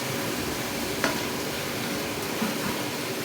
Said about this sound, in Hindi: थोड़ा सा सौते हो जाए